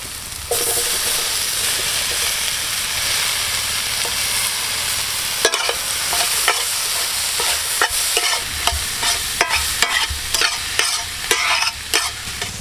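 Tomatoes frying with onions and green chilli in hot oil, a loud steady sizzle close by, broken by a run of sharp spatula scrapes and knocks against the pan that come faster toward the end.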